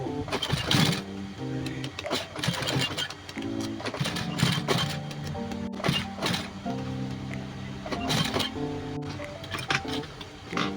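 A sewing machine stitches through a thick jeans seam in loud, rhythmic mechanical bursts that speed up and pause, the motor whirring and straining as the needle punches through the stiff denim.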